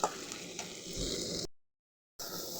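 Masala curry frying in a pan, a steady close sizzle with stirring scrapes that cuts off abruptly into silence, then resumes briefly.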